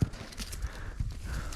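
An old horse, over twenty years old, walks through a training session, its hooves clip-clopping in faint, uneven steps against soft background noise.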